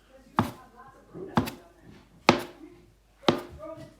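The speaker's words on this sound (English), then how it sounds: "taking my bench knife, I can actually come across these, take off those end ones" Bench knife chopping through ricotta gnocchi dough on a floured board: four crisp, separate thuds spaced about a second apart, close and clear, with a voice talking between the cuts.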